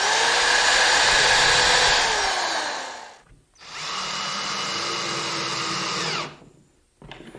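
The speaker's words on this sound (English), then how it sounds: "Now what I'm doing is going through and drilling and countersinking for our 1¼ inch long number 8 wood screws." A power drill runs loud and close, boring and countersinking holes in wood for 1¼-inch number 8 wood screws. There are two sustained whining bursts with a short pause between them, then a brief restart.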